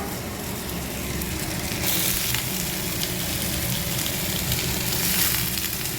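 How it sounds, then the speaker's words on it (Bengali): Steady, loud sizzling of fresh pumpkin stalks frying with potato and spices in a pan, a continuous crackling hiss that rises slightly partway through, with no talking. "এইবার ডাটাটা দিয়ে আর একটু ভাজবো।"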